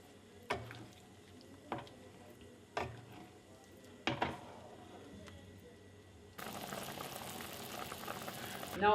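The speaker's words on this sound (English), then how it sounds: "open cook it on a low flame for 20 to 30 minutes, occasionally stirring between." A Tripuri pork and lentil gravy with dry bamboo shoots cooks in a pot over a low flame. A few sharp clinks and taps come first, then steady, loud bubbling and simmering sounds up close.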